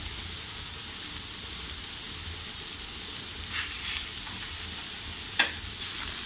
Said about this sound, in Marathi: आता आपण ही व्यवस्थित अशी परतून घेऊया